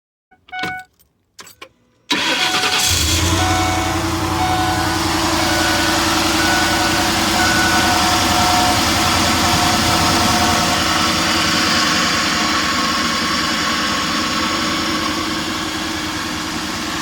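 A Ford 5.4L V8 in an Econoline van, just back from a spark plug job, cranks and catches after a few quiet knocks, then settles into a loud, steady, smooth idle heard up close for about fifteen seconds.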